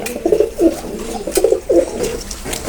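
Teddy pigeons coo in a steady series of soft, rounded, throaty calls, close and moderately loud, repeating roughly every half second over a faint background hiss.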